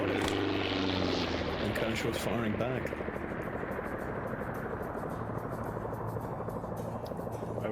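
A military helicopter flies through a Vietnam-era multiplayer war game, its rotor and engine droning steadily beneath gunfire and a commentator's voice that talks over it throughout.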